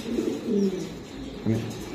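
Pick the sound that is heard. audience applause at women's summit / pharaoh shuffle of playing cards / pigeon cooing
pigeon cooing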